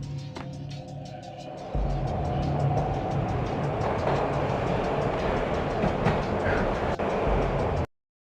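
A train rumbles steadily along in the Max Payne video game, a loud continuous rolling roar with rhythmic clickety-clack from the wheels, swelling heavier after a quieter opening before cutting off abruptly.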